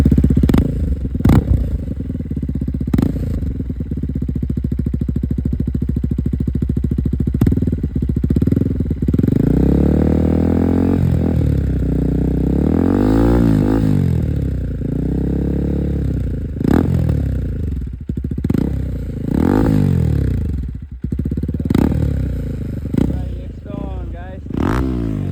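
A third-generation KTM Duke 250 motorcycle fitted with an Akrapovic exhaust rumbles close by, its engine swelling and falling in uneven revs while someone talks over it almost throughout.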